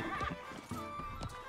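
A foal in the Alicia Online horse game gives a brief whinny, with a few soft hoof clip-clops and light game background behind it.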